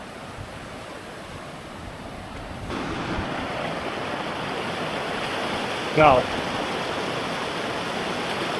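A glacial river rushes in a steady broadband wash, close and loud, with brief wind buffeting and a short single word spoken over the water.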